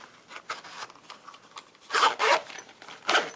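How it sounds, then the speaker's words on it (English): Zipper being pulled closed around an accessories carrying case, a series of quick rasping strokes that grow louder toward the end, close up with no talk. "Everything zips up nicely"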